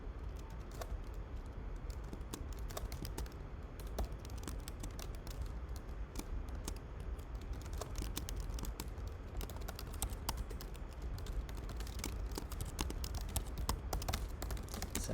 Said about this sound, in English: So I'm just typing up my solutions so that I can talk about them lucidly later on.